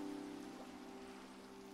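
Rain falling in the Minecraft video game, a steady soft hiss of drops that holds even throughout, with a faint low tone running underneath.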